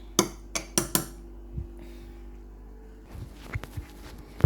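A metal spoon stirs mug pizza batter in a mug, giving a quick run of sharp clinks against the ceramic at the start, then softer scraping and a few scattered taps, close and alone without talk.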